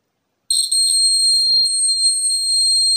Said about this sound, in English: Now I replace this LED with a buzzer, a piezo buzzer.